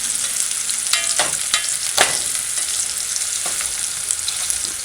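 Saltfish stew in a pot, cooked after onions are sautéed, gives a loud, steady sizzle close by with a few sharp stirring clanks.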